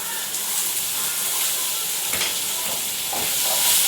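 Chopped vegetables, green chillies and tomato sauté in a hot pan, giving a loud, steady, close sizzling hiss that carries on without a break and rises slightly toward the end, with no talk.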